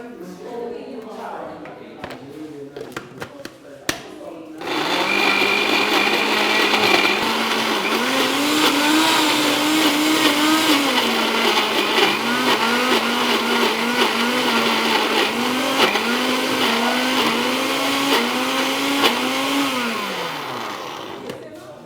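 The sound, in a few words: blender blending fruit with juice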